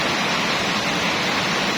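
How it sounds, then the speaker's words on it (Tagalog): Heavy rain pouring in Cavite: a dense, loud, unbroken roar of downpour, like steady hissing noise with no pauses or voices. "ingay ng buhos ng ulan"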